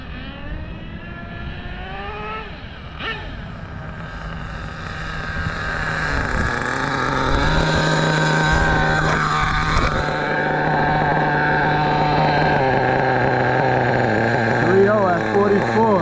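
A nitro engine on an HPI RS4 Big Block RC car that is running low on fuel buzzes loudly and steadily, its pitch rising and wavering as it revs and breaks up. Voices can be heard faintly under it.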